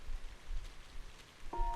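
Steady, soft rain falls in the video game Trails of Cold Steel, a faint even hiss, with a short bright menu-like chime near the end.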